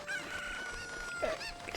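Chickens cluck in the video game Ocarina of Time, with a few short, bright clucks and squawks over a soft game background.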